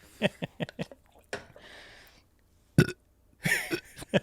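A series of burps produced on command by a person, several short close eructations in quick succession, then a longer loud belch and a final drawn-out rumbling one, with brief pauses between.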